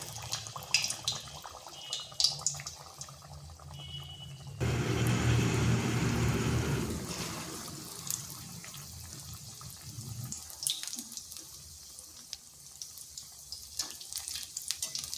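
Tomato and onion chops drop into hot oil in a wok, setting off a loud, steady sizzle that swells for a few seconds and then fades into quieter crackling and kitchen clatter.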